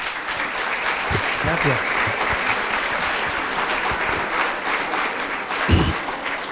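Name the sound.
audience applause for a speaker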